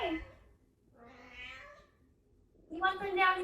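A kitten meows in short, fairly faint calls, with a third louder, higher meow near the end; no other sounds compete.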